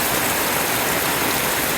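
Heavy rain pours down after a large teak tree has fallen, making a dense, loud, unbroken roar of falling water with no voices.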